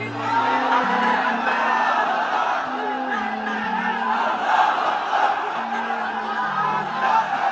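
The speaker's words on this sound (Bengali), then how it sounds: "তাকবীর দেন তো একজন আওয়াজ করে।" A large audience at an Islamic religious lecture shouts the takbir in unison, a loud, sustained collective chant with rising and falling swells across several seconds.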